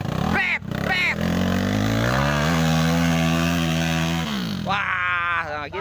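Off-road motorcycle engine on a rough extreme trail, revving hard with rising and falling pitch sweeps, then holding a steady loud drone before another burst of revs; loud and close throughout.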